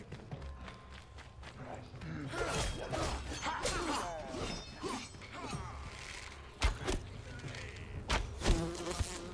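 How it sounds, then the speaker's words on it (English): Buzzing bees in the video game Enshrouded hum steadily through the scene while a player talks over them, with a few sharper thumps and impacts breaking through near the end. "Ow, bees!"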